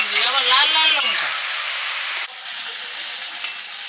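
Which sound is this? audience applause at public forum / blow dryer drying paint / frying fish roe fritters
frying fish roe fritters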